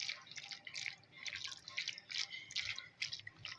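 Mayonnaise is stirred into a chicken shawarma marinade, making quiet, rhythmic wet squelches and sticky smacking strokes close up, with no voices.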